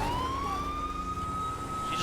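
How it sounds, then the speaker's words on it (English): Police car siren in the video game GTA V with the LSPDFR mod: a loud, steady wailing tone that sweeps upward and then holds high, sounding continuously over rumbling engine and road noise throughout, with no talking. "So I changed the siren again."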